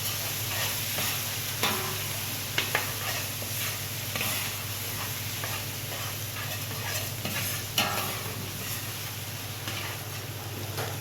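Eggplant and peppers being stirred and fried in a pan for a vegetable bulgur pilaf, with steady sizzling and repeated scraping strokes of a utensil throughout, close and fairly loud, with no talking.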